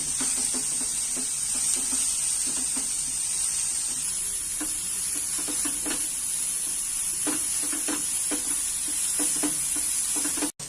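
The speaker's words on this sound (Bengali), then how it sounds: "এইটাকে একটু হালকা ভেজে নেব" Egg paratha filling sizzles and crackles steadily in a pan with salt, a continuous close frying hiss broken by soft stirring scrapes, no talking.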